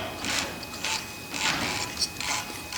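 Genie 7055 screw-drive garage door opener motor turning with its back cover loosened, giving quiet rhythmic mechanical ratcheting clicks and whirs in short repeated bursts, close up with no talking.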